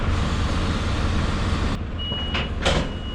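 A Scania truck reversing under a tank, its steady engine rumble filling the scene, with a thin high reversing beep sounding over it for the last second or so, close by and with no speech.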